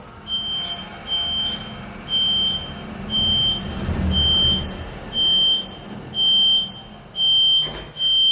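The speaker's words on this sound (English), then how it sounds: "There'll be a bit of beeping as well." An IDD traction machine gives a high electronic beep in steady pulses about once a second, clear and close over a low mechanical hum, with one brief rustle near the end.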